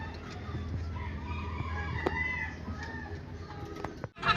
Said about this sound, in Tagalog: Ito pa mga kalapatids